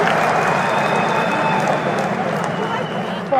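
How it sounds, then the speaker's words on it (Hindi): Audience applause at a political speech by a politician, a dense, steady wash of clapping from a large crowd, loud and continuous with a voice heard over it. "ठोको ठोको ताली ठोको"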